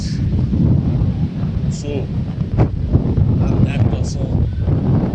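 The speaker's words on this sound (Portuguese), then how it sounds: "O vento está frio." Cold wind sweeps across the beach promenade at Pajuçara in Maceió, a steady, rumbling gust buffeting the microphone while someone talks over it.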